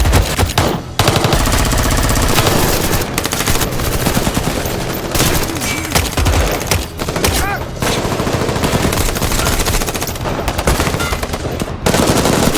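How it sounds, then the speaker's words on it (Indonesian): Heavy gunfire exchange between two armed groups in a film battle scene, continuous loud machine-gun bursts and overlapping shots filling the whole stretch with barely a pause. "Kedua kelompok pasukan saling baku tembak."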